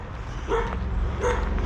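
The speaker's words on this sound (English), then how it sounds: "if I'm not upsetting the dogs too much" Dogs bark a couple of times at a distance beside an old railway track bed, two short separated barks over steady outdoor background rumble.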